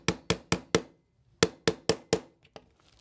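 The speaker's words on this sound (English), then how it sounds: "grab your punch, check the alignment, kind of hold it in your hand there and feel your way through it as you're tapping" A punch is tapped with a hammer to drive a pin into an FN 509 pistol frame: two quick sets of four sharp, close metallic taps with a short pause between them, then a faint lighter tap.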